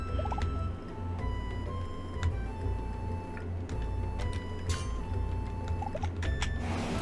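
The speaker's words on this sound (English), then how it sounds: "Hey, there's a bird." A game bird gobbles repeatedly in the Blacksmith of the Sand Kingdom video game over a steady low music bed, with light ticking and small chimes scattered throughout.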